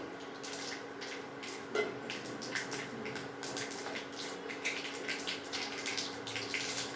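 Mustard seeds and cumin sizzle in hot oil, a bright, steady crackle with scattered sharp pops and spits throughout, close by and with no talking.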